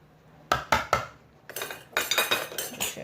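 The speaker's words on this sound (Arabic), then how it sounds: "نخلط كل المكونات مع بعض" A utensil mixing chermoula ingredients with a little water in a bowl: three sharp metal-on-dish clinks, a brief pause, then a quicker run of scraping, clattering strokes, close and alone.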